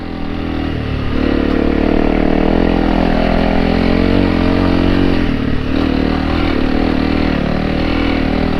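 Honda CRF300L Rally motorcycle ridden off-road on a trail to a lookout, its engine droning loud and close without a break, pitch rising and holding as it climbs.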